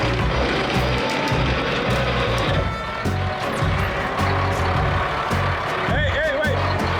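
A truck's engine idles and revs steadily while reversing under a trailer deck, heavy low rumble throughout with a short squealing, brake-like hiss near the end; speech is mixed in.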